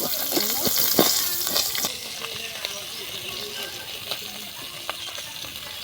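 Mustard paste curry with fish frying in a pan, a steady close sizzle with stirring clinks and scrapes, louder at first then settling, with someone talking over it.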